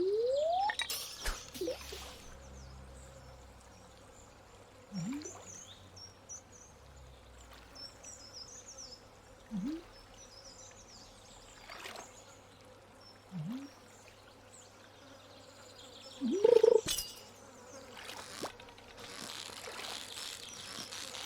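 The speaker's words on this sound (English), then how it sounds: "Fly buzzing noise" A fly buzzes faintly and steadily in the farming game Stardew Valley, with a few short chirps and soft blips scattered over about twenty seconds.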